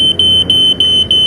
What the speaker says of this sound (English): When you hear the fire alarm siren that detect the smoke